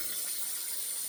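Tap water runs steadily into a bowl at a shaving sink, a continuous hissing gush, close and even, with no other sounds.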